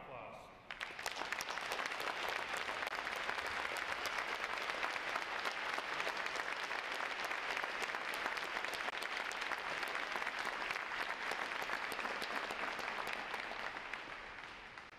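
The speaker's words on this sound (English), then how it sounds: "let's give them a round of applause" Sustained, dense applause from a large audience honoring standing veterans at a U.S. Navy Recruit Training Command graduation ceremony, rising quickly and holding steady for the full stretch before tapering slightly at the end.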